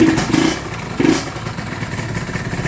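A Yamaha TZR motorcycle engine idles nearby with a rapid ticking, clattering valve noise and a few louder knocks early on.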